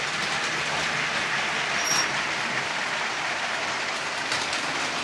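Several LEGO toy trains run together on a layout, making a continuous, even clatter and rolling whir that stays loud and unbroken throughout.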